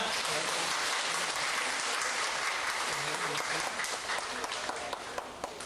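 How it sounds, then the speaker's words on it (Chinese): Sustained applause from a crowd, dense and steady throughout, with a few brighter claps standing out near the end. "咱再度去给热烈的掌声。"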